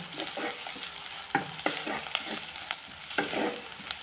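Onions for a red amaranth dish fry in a pan, a soft sizzle punctuated by repeated clicks and scrapes of a spoon stirring them, close and fairly quiet.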